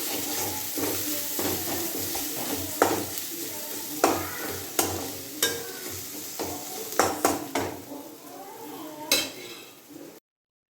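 Crushed ginger, garlic and curry leaves sautéing in a pan as beef is prepared, a low sizzle broken by repeated sharp scrapes and clinks of a spatula stirring against the metal.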